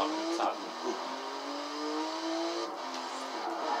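A car drifts in a racing game, its engine holding a steady, rising whine with long sustained tones and some tire noise, fairly loud and continuous throughout.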